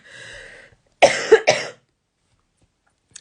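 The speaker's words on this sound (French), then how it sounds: "Excusez-moi, j'ai encore ma toux." A woman coughs sharply twice in quick succession, close and loud, after a short stretch of talk, followed by silence.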